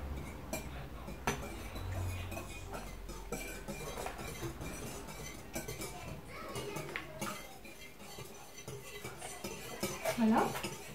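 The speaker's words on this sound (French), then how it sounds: "mélangez bien les œufs" Eggs being mixed in a bowl for an apple clafoutis, with a steady run of utensil clinks and scraping against the dish and voices murmuring in the background.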